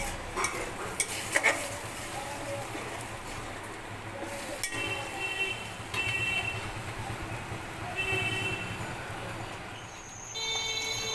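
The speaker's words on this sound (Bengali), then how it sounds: "ধনেপাতা বাটাটা দিয়ে আমি একটু কষিয়ে নেব" Coriander leaf paste frying and being stirred in a pan for a green parshe fish curry, a steady close sizzle with scraping stirs and occasional utensil knocks throughout.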